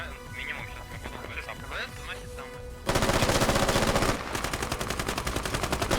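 Rapid automatic gunfire in Squad, a tactical shooter played in a tournament match: faint shots and a caster's talk, then loud sustained machine-gun bursts crackling close by for several seconds.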